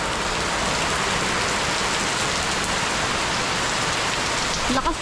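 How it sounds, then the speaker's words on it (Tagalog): Heavy rain pours down in a steady, dense hiss on the surfaces nearby, loud and unbroken throughout, during a windy storm. "Lakas pa ng ulan."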